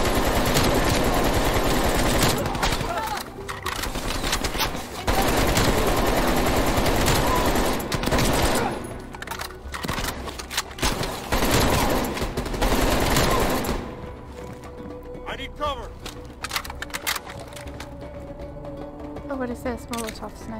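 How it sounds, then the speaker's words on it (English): Rapid gunfire from Call of Duty: Black Ops Cold War, with dense automatic bursts dominating the first half and then thinning into sparser shots and clatter. Excited players talk over the battle. "They're shooting at us!"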